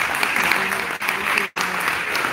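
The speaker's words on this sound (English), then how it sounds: "All those people clapping and moms just demand action." Audience applause fills a firearms and safety judiciary committee hearing in Pennsylvania, a steady dense clapping that briefly dips twice before resuming, loud and continuous.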